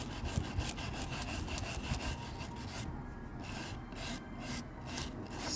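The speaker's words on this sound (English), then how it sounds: "how I'm getting the stuff out from these grooves is with this little wire brush here" A small wire brush scrubs dirt out of the grooves of a vintage Stokke Tripp Trapp wooden chair, making a steady close-up rasping scratch that continues through the clip without pause.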